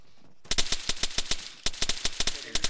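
Rapid automatic gunfire in the military shooter Arma 3, loud close bursts of sharp shots in quick rhythmic strings with brief pauses between volleys.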